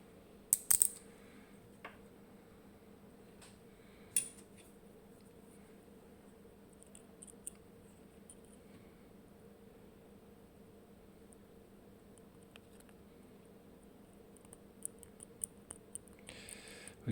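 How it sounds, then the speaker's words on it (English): A lock pick sets finger pins inside a pin-tumbler lock, giving a few sharp, faint clicks spaced seconds apart over a quiet, steady background hum. "with the pick, and we hear a characteristic click"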